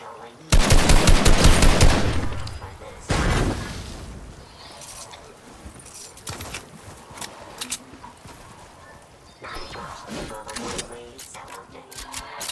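Video game gunfire rattles in two loud sustained bursts near the start, followed by scattered quieter shots and game noise for the rest of the stretch, with a player talking over it.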